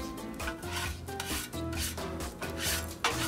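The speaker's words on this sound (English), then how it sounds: "Clean the spatulas." Metal spatulas scraped and rubbed clean on a Blackstone 22-inch griddle, a close, continuous rasping scrape in rough repeated strokes with brief pauses.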